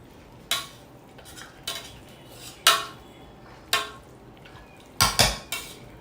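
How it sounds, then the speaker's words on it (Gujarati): Pav bhaji vegetables being mashed with a masher in a pot, sharp metallic clanks striking about seven times at irregular intervals, close and loud against a quiet background. "આપણે અત્યારે મેશ કરી રહ્યા છીએ."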